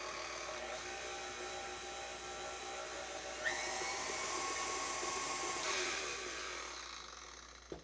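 Electric mixer whisking keto pumpkin cream cheese muffin batter in a bowl, a steady close whirring drone that holds throughout, with a brief clatter partway through.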